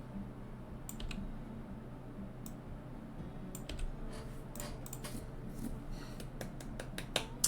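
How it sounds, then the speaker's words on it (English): Clicky computer keyboard typing in irregular bursts of keystrokes over a low background hum, fairly close and quiet, no talking. "typing."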